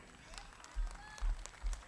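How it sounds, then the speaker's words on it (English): Audience applause at a Hawaii fiafia show for a Polynesian dance group, heard as a faint crowd wash with three brief louder swells over quiet background noise, with a voice speaking. "Let's give a round of applause for our men."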